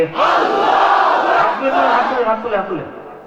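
A large crowd at a Bengali religious gathering roars a unison chant in response to a Nara-e-Takbir call, a loud sustained mass of voices that swells and tapers over a few seconds.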